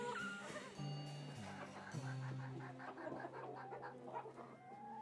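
Show chickens cluck and call close by in a poultry-exhibition setting, several overlapping low, throaty clucks running steadily through the whole stretch with a bit of background murmur.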